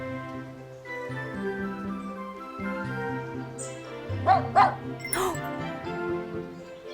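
A puppy in a cornfield gives a few short, sharp yips and barks around the middle of the clip, set against steady music and a talking voice.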